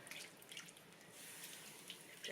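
Water poured into a cooking pot of beef and flour for carne guisada, a steady soft splash and trickle running throughout, faint and continuous with no talk.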